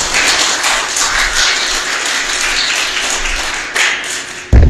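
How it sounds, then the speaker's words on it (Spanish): A congregation at a Sabbath Torah study gathering applauds the Creator, a broad steady patter of many hands clapping, with a sharp louder burst near the end. "Dale un aplauso al creador."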